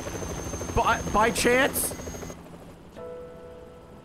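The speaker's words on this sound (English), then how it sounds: "This is the second time she's in a helicopter in back-to-back games." A helicopter in the video game Yakuza 3 Remastered gives a steady rotor and engine drone under game dialogue, dropping to a quieter hum partway through.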